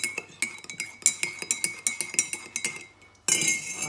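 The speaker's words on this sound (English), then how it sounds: "give that a little good old stir" A spoon stirs a drink in a cup, clinking against the sides in a quick irregular series of bright taps, close and clear, ending in a brief rustle.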